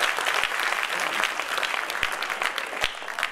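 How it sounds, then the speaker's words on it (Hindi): Audience applause at a training demonstration in Nagpur, a dense, steady patter of many hands clapping at once, moderately loud throughout with a few sharper claps standing out. "ताली तो बजाइए."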